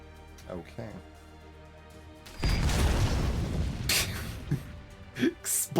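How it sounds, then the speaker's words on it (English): Explosions in the video game Heart of the Machine: a sudden loud blast followed by a rumbling, crackling decay, then a few shorter bursts, with quiet background before it. "Explosion noises."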